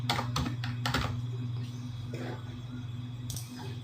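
Fingers type a short word on a computer keyboard, a quick run of close, crisp key clicks followed by a pause and a single final tap, over low steady hum.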